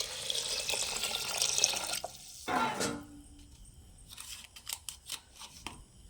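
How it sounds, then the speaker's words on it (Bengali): Tap water runs into a pressure cooker for boiling home rice, a steady hissing stream for about two seconds, followed by a short splash and a few faint drips and clinks in a quiet kitchen. "তো তার জন্য এই প্রেসার কুকারই নিয়েছি। দিয়ে দেব পরিমাণ মতো জল"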